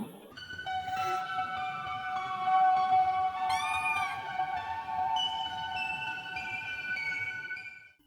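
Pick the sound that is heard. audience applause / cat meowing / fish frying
cat meowing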